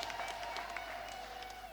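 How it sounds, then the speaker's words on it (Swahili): Church congregation applauding at a Sunday service, a steady wash of clapping hands sustained evenly through the moment, with no voices standing out above it. "Tungepiga makofi na vigelegele kwake"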